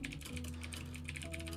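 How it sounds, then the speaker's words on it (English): Quiet, rapid clicking of fingers typing on a computer keyboard, a close but faint patter of keystrokes over a low steady hum. "I'm typing goodbye in the chat"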